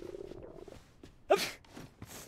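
A single short sneeze bursts out near the middle, set among soft movement and low background noise during a DayZ survival game session.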